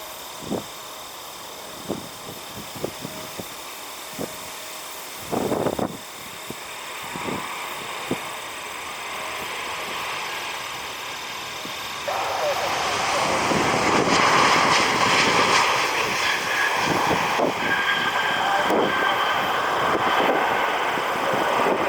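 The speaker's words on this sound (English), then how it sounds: "Delta Airlines Flight 880, 737 inbound from Atlanta" A Delta Airlines Boeing 737 jet inbound from Atlanta approaches, its engine roar swelling from a distant rumble to a loud, sustained wash over wind buffeting, with scattered clicks and thumps early on; no talking.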